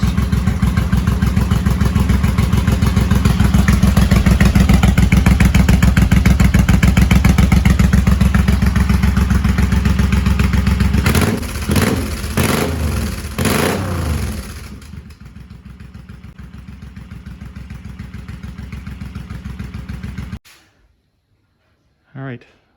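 A Suzuki M109R motorcycle with loud exhaust baffles idles in a garage with a deep, steady, loud rumbling throb, briefly revved a few times before it settles and cuts off.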